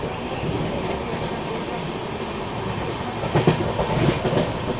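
Humsafar Express train rolling through Raigarh station, a steady rumble of wheels and carriages close by, with faint clattering bursts near the end.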